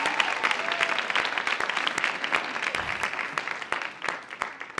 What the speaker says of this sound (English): Let's have one big round of applause for all of our contestants.